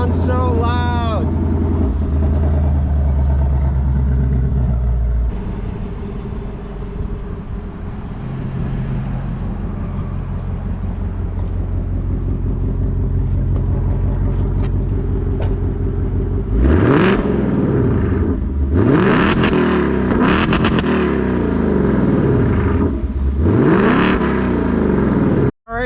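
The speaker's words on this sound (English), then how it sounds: "I even got to rev the engine" The engine of a 2024 Ford Mustang GT idles with a deep rumble, then revs several times, each rev rising to a loud roar and falling back, close by with no talk over it.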